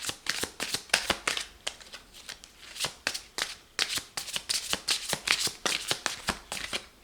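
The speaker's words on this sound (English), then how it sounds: "That's the first shuffle." A deck of cards being riffled and shuffled up close, a quick run of crisp flapping bursts repeating in several rapid sequences.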